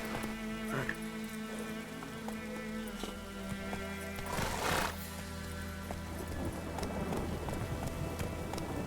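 Roach, the horse from The Witcher 3, gallops with continuous clip-clopping hooves under game music, with a brief whinny-like burst midway, fairly close and steady.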